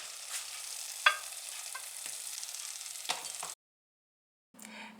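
Candied walnuts are stirred in a hot microwave bowl, giving scraping clatters and a light sizzling hiss with a few sharp clinks, then a brief silence before the sound resumes.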